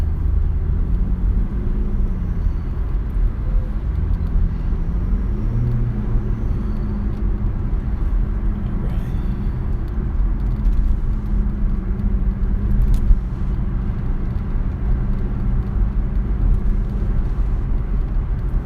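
A car driving through road traffic, heard as a steady low engine and road rumble that stays even and continuous throughout, with no one speaking.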